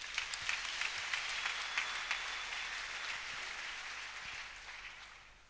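A church congregation at a sermon applauds together in steady, sustained clapping that sounds moderately distant and slowly fades toward the end.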